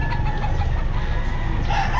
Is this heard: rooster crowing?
yes